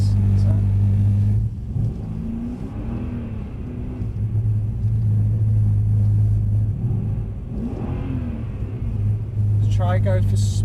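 A Mercedes C63 AMG on a driving-experience track, its engine rumbling low and rising in short throttle blips between idling stretches, heard from inside the car with people talking over it.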